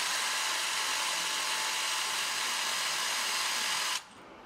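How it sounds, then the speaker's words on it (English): A power drill bores a hole into a wall plug spot with the bit marked by coloured tape for depth, a steady close whine running continuously before cutting off abruptly near the end. "take your drill and drill the hole"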